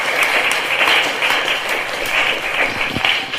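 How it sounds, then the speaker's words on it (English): An audience at a talk bursts into loud, sustained clapping, a thick continuous roar of many hands filling the room without any speech. "That wasn't the intro clap, that was just a technical clap"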